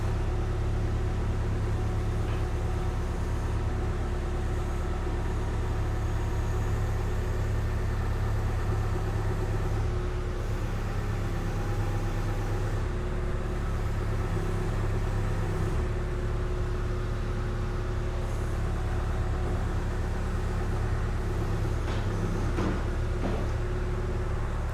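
A backhoe engine idles steadily at close range, a constant low rumble with an even hum that never changes pace.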